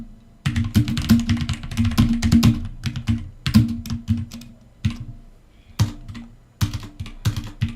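Rapid typing on a computer keyboard sits close to the microphone, with dense bursts of clacking keystrokes broken by short pauses and scattered single presses.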